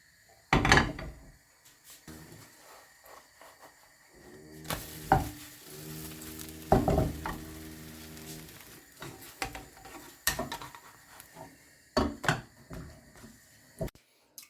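Crepe batter sizzles in a hot pan with no oil, between sharp clatters and knocks of utensils and cookware, with a soft steady hiss underneath.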